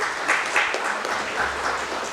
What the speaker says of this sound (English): have a big round of applause for him.